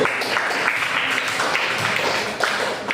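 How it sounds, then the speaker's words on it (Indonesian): Classroom applause for the first student group, a dense, steady wash of many hands clapping together for about three seconds, fairly loud and continuous throughout. "berikan tepuk tangan untuk kelompok 1"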